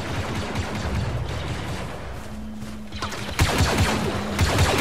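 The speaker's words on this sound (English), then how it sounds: "Alright, they're shooting now." Gunfire from a Star Wars Battlefront 2 match against Ewoks, a continuous busy clatter of blaster shots with a louder burst near the end, under steady game noise.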